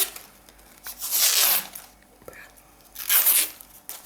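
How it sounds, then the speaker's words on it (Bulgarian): Gift ribbon on a wrapped bottle bouquet is curled with scissors, giving two loud rasping, scraping pulls about two seconds apart, with a quieter pause between them. "Знаете добрия стар цветарски маниер за извиване на такава лента с ножица."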